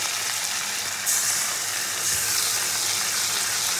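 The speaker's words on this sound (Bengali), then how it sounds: "তো টমেটোটা ভালো করে ভেজে নিয়ে এবার বাটা মশলাটা দিয়ে দেবো।" Ground spice paste with tomatoes fries in a pan, a steady, loud, close sizzle that continues without a break and with no talk.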